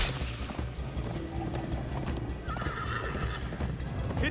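A horse in the video game Minecraft Story Mode whinnies loudly while hooves clip-clop at a gallop underneath, with other game sounds mixed in.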